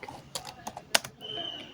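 Brief burst of computer keyboard typing while entering a database constraint, a handful of sharp, close keystrokes in quick irregular succession, quiet and without talk.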